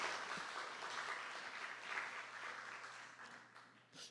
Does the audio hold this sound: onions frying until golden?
no